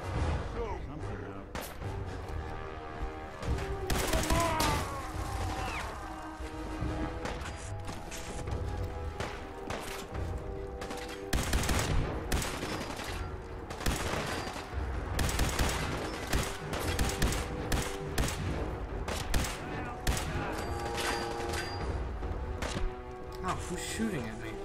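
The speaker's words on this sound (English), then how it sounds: "Shooting at me." Gunfire from mutant enemies in Fallout 4 crackles in repeated bursts and scattered single shots across a busy, layered game soundscape with music tones underneath.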